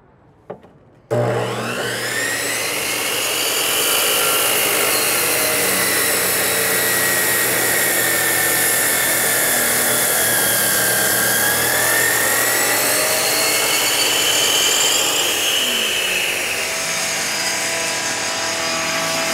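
A loud, continuous power saw whine starts abruptly and grinds steadily through pavers, rising and falling slightly in pitch as it cuts, close by.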